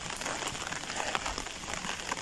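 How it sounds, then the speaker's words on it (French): Rain falling steadily over a campsite with a children's playground, a dense even patter of drops that stays constant and fairly loud throughout, with no voices. "Bon, je suis sous la pluie."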